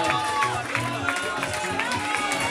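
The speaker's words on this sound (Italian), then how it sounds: "ancora un applauso" A party crowd applauds and cheers after a performance at an Europride event, with dense clapping and shouts close by and people talking over it throughout.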